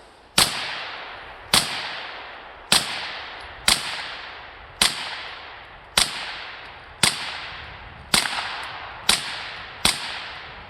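Eleven sharp, loud gunshots fired at a steel door's deadbolt with cheap ammunition ring out one by one at roughly one-second intervals, each leaving a short decaying echo, with no voices between them.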